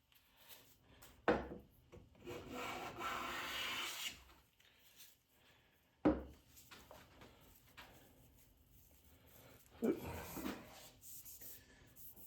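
Three long, smooth shaving strokes of a Lie-Nielsen No. 4 bench plane rasp across cherry wood, each starting with a sharp bite, with quiet sounds between.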